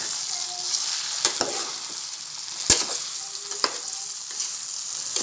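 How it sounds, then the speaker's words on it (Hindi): Sabudana khichdi being stirred with a spoon in a pan over steady frying sizzle, with a few sharp scrapes and clicks of the spoon against the pan standing out from the continuous hiss. "अब मैं इसे चम्मच से अच्छे से हिलाऊंगी।"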